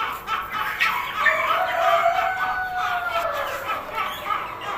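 Ornamental chickens, including Brahma and Cochin breeds kept for sale, make a drawn-out crowing call up close, with clucks and other bird calls mixed into a busy background.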